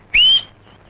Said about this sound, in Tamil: ஏண்டா நீ வேற விசில் அடிச்சு பயமுறுத்துற?